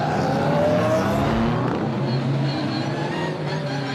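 Super GT race cars lapping Spa-Francorchamps on a dry track, a loud continuous engine roar with shifting pitch as cars pass, fairly close and without speech.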